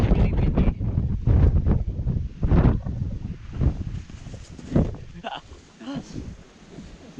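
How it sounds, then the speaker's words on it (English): Strong wind on a clifftop on Hibok-hibok volcano in Camiguin buffets the microphone in loud, uneven gusts, with people talking faintly underneath. "It's just really windy."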